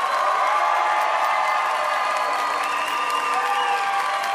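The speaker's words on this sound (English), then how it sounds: "You're gonna have to cheer loud enough for him to hear because he's walked off the stage" A studio audience at a comedy debate show cheers and applauds loudly and continuously, a dense wall of clapping with whoops mixed in, no speech standing out.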